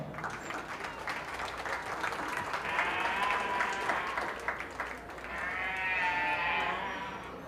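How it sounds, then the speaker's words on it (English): Sustained applause from a crowd at a junior fair sheep show, steady clapping that swells near the end, with some cheering mixed in. "Let's give them a nice round of applause."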